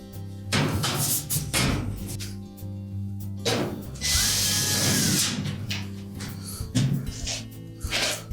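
A power drill whirs in several short bursts, driving screws into a Whirlpool dryer during seal replacement, close and loud with clicks and handling noise between runs.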